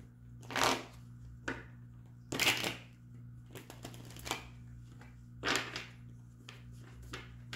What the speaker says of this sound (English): Am I even going to be able to get six cards down on this one?